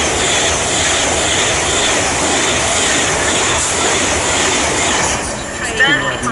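A train passes through Watford Junction on the West Coast Main Line with a loud, steady rushing roar close by for several seconds, easing slightly near the end as a voice begins.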